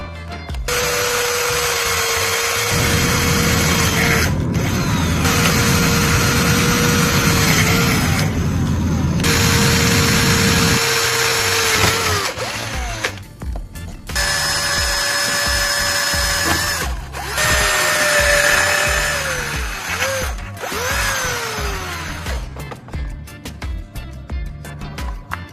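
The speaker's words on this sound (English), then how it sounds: "I continued drilling along the points I had just set, making each hole slowly" A power drill whirs in repeated bursts, its pitch dropping under load as it bores through material, with short pauses and clicks between holes.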